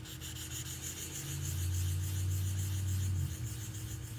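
A 1000 grit Velcro sanding pad rubs over scratched glass in a continuous, fairly close grinding rasp that swells louder through the middle before easing off, with no voices.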